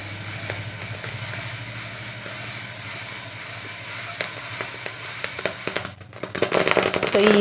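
Jowar grains roasting in a hot pan give off steady crackling and hissing, with scattered sharp pops growing busier and louder toward the end.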